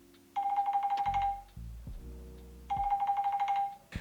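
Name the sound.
alarm clock ringing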